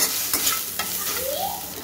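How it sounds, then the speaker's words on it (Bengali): Soybeans with turmeric frying in a pan, a continuous close sizzle broken by a few quick stirring scrapes. "একটু হলুদ দিয়ে দিলাম, দিয়ে ভালো করে নেড়ে ভেজে নেব।"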